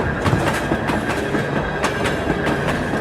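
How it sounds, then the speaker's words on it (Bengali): A night train on rails draws steadily closer, its wheels keeping up a rhythmic clickety-clack with a sustained tonal ring above the rumble, loud and continuous with no voices. "হুইসেল দিতে দিতে এগিয়ে আসছে রাতের শেষ ট্রেন।"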